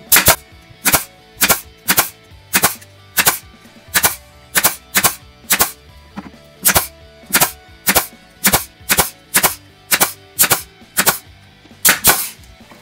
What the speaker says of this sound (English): now just staple them